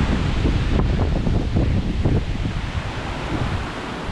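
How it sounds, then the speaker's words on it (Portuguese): Strong wind gusts roar continuously across the microphone at Gibson's Cave near Barnard Castle, a dense, buffeting rush with low rumbling thumps throughout and no voices. "Olha o vento."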